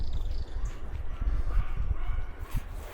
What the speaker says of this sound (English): Sounds like a dog.